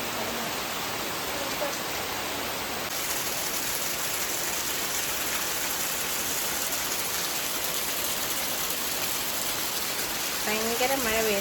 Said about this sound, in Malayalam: ഭയങ്കര മഴ പെയ്യുന്നു, വേനൽ മഴ.